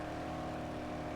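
Steady, droning car engine in the video game Dead Island, a constant hum that neither rises nor falls, heard alone for a moment without talk.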